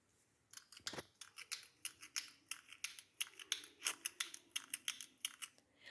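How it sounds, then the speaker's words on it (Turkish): A pen cap clicks and snaps about twenty times in quick, fairly regular succession, faint and close, used as a sound in a listening game. "Kalem kapağı."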